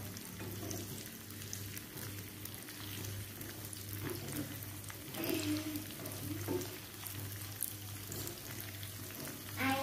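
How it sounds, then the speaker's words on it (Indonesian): Chili peppers fry in hot oil for a Balinese ayam kalasan sambal, a soft continuous sizzle with a steady low hum beneath and occasional stirring scrapes, fairly quiet and without talk. "Sekarang kita goreng cabainya."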